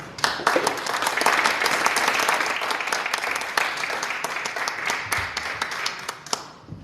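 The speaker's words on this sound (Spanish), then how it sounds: "Con ustedes, Guillermo Biucci, recibámoslo con un caluroso aplauso." An in-person talk audience welcomes a speaker with warm applause, a loud, dense wave of clapping that swells quickly and then slowly tapers off, with individual sharp claps standing out toward the end.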